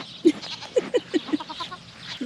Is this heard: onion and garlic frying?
no